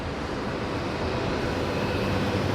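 A Southwest Airlines airliner taxis at an airport before an airshow, its jet engines giving a steady, loud, continuous roar with no voices over it.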